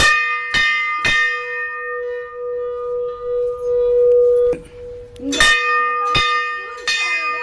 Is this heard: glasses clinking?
no